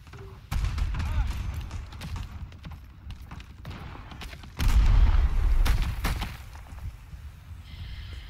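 Gunfire and explosions from the Vietnam War shooter Rising Storm 2: Vietnam, with a steady, loud battlefield din of shots and booms that swells to a heavy burst partway through.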